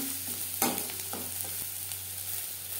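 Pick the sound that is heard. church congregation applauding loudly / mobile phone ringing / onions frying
onions frying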